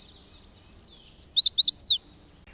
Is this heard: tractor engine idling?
no